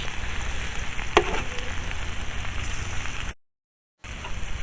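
Onions frying in a pan for paella mixta, a close, continuous crackling sizzle with a brief sharper pop early on, cutting out to silence for a moment before the sizzle resumes.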